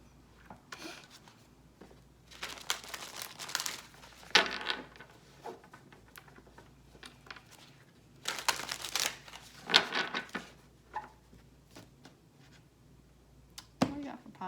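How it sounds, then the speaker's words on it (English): Bursts of papery riffling and crisp tarot card shuffling come in short clusters, with brief pauses between, close up and fairly quiet, a voice murmuring now and then. "Taking so long to shuffle these cards."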